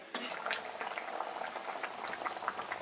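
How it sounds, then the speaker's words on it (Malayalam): Chicken curry bubbles and pops steadily in a pot, a close, continuous simmering burble with no voices. "ഇപ്പോൾ ഇതാ നമ്മുടെ കറി നന്നായിട്ട് തിളച്ചു."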